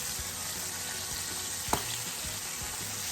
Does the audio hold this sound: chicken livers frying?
yes